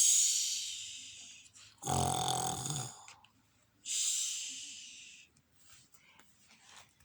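A voice imitates a bear snoring with two loud, drawn-out snores a couple of seconds apart, each a rough, breathy rumble, followed by quieter trailing breaths.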